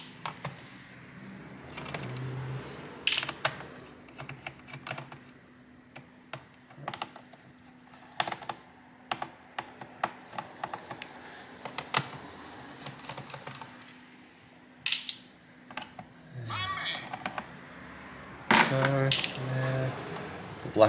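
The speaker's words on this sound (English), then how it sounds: "small Phillips head screwdriver. Take these screws out." Small metallic clicks and taps from a small Phillips screwdriver backing screws out of an HP Pavilion 15s laptop, scattered irregularly over a quiet background, close and faint.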